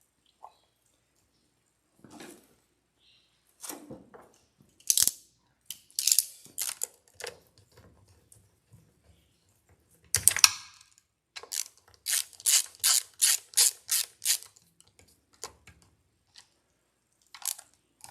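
A ratchet snugs down bolts on the water pump of a 200 HP Yamaha outboard, with scattered bursts of close, crisp clicking separated by quiet pauses, ending in a quick even run of clicks.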